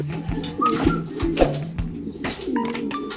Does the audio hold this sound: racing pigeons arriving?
yes